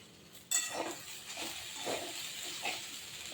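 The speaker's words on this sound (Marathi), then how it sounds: "हे पहा भाजून झाला आहे भेंडी" Okra frying in a pan, with a steady soft sizzling hiss and a few close metallic clinks and scrapes of a utensil against the pan.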